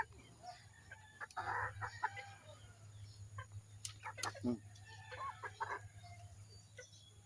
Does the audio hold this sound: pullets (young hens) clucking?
yes